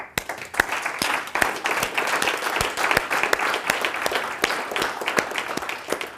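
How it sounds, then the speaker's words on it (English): A seminar audience applauds with many hands clapping together, a dense, steady round of claps with sharp individual slaps standing out, lasting the whole stretch before tapering slightly at the end. "I want you guys to give you guys a round of applause."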